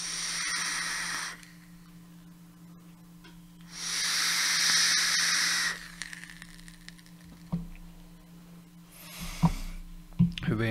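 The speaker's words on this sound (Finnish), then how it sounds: "Hyvin höyryvää." Steam hisses in two loud, broad bursts, with a steady background tone between them and a few knocks and clatters near the end.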